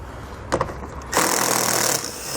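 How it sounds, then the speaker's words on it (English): A 10mm socket ratchets silver bolts off the outside panel of a 2017 Chrysler Pacifica, with a few quick clicks followed by a sustained mechanical whir. "We're going to remove these silver bolts here on the outside of this panel."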